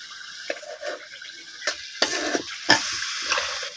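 Fish sizzles as it is sautéed in a pan for a village-style curry, with a steady hiss of frying and several louder scraping stirs of the spatula, close up and with no talking.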